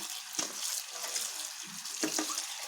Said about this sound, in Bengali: এইভাবে ঝুড়ি করে এবার আমি ভালোভাবে ধুয়ে নিচ্ছি